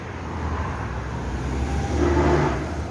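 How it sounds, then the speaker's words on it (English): Steady city street traffic in San Jose, Costa Rica, with cars and heavier vehicles rumbling past close by in a continuous roar, one engine swelling slightly louder near the end. "San Jose, Costa Rica traffic."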